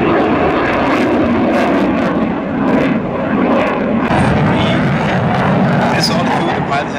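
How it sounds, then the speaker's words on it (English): A jet aircraft with reheat roars past at the Aalborg airshow in Denmark, a loud, continuous broadband engine rumble that swells and wavers, with a faint voice talking underneath. "The pilot has to deselect the reheat from time to time, otherwise the airplane gets too fast during the turn."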